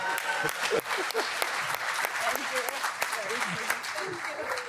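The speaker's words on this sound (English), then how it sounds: "Another round of applause." Audience applause at a global symposium, steady clapping from a seated crowd with scattered louder claps and some voices underneath.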